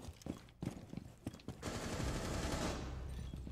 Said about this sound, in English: I'm trying to cover you guys with gunfire